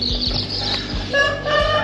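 Chickens cluck and chirp in a busy farmyard near Muxía, Spain, on the Camino de Santiago, with several short calls rising over steady outdoor background noise.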